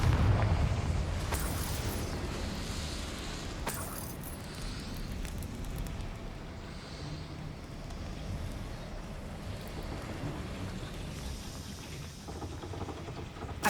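A Confringo fire spell going off in the Hogwarts Legacy video game, a loud explosive burst that settles into a long, rumbling roar. Sharper cracks break through the roar several times.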